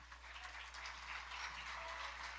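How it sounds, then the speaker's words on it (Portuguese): A church congregation claps together in a steady, fairly distant wash of applause, faint and continuous over a low hum, without voices. "Você pode aplaudir o seu bem forte?"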